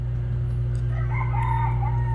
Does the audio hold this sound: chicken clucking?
yes